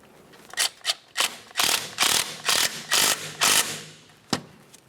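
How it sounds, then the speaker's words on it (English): A ratchet drives a 14mm bolt into the front strut assembly of a 2009–2010 Pontiac Vibe, giving about eight close, crisp bursts of clicking in a steady back-and-forth rhythm, then one final sharp click. "Once it's lined up, continue on with your 14mm headed bolt."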